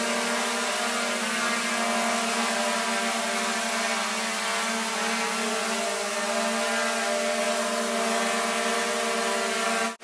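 A drone flies in Norway, its motors giving a loud, steady, high-pitched droning whine with strong sustained tones that holds evenly close by for the whole stretch and cuts off abruptly at the very end.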